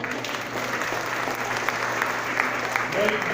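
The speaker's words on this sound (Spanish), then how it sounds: "Un aplauso." Applause rises from a seminar audience during a talk on nanotechnology and obesity, a continuous dense clapping texture under steady room noise, with a faint voice surfacing near the end.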